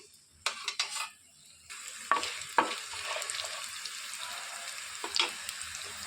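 A tablespoon of coriander seeds fries in hot oil, giving a steady close sizzle with scattered stirring clicks and scrapes, no voices.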